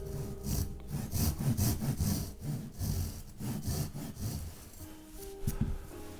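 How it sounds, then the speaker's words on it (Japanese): A hand saw cuts diagonally into a square wooden block for wood carving, with steady back-and-forth rasping strokes in a quick regular rhythm, close and clear, no voices. "この線のところまで ノコギリを入れます。"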